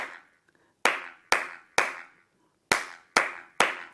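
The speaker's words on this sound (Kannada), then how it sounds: "ಬಹಳ ರಿದಮಿಕ್ ಆಗಿ, ಬಹಳ ಸ್ಟೆಪ್ ಪ್ರಕಾರ ಈ ರೀತಿ ಚಪ್ಪಾಳೆ ತಟ್ಟಬೇಕು" Bare hands clap in a steady rhythm as a warm-up exercise: one faint tap, then six sharp, loud, close claps in two groups of three with a short pause between, each ringing briefly in a quiet room.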